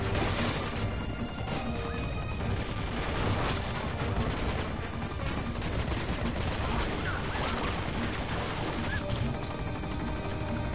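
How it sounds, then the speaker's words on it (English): Dense gunfire in the action game Uncharted: Among Thieves, continuous loud volleys of shots and crashing impacts filling the whole scene, with a voice occasionally shouting over the battle. "Someone shooting at me."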